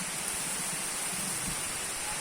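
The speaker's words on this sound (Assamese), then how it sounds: "বৰষুণ দিছে, চাওক কিমান বৰষুণ দিছে।" Rain pours steadily outside a Shiva temple, a dense, even hiss with no breaks, close and fairly loud, with no voices.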